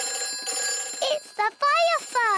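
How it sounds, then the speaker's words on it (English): Cartoon fire station telephone ringing in bright, repeated electronic trills, loud and close, with a short break between bursts of ringing. "It's the fire phone."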